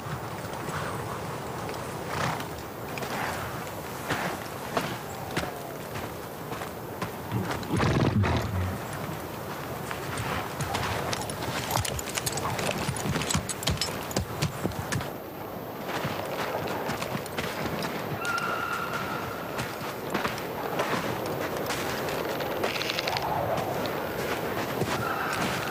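Horse hooves clip-clop steadily in an outdoor scene from a fantasy drama, a continuous close rhythm of hoofbeats with occasional louder thuds over wind and ambient noise.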